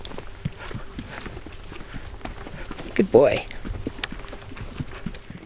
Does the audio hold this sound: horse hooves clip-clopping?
yes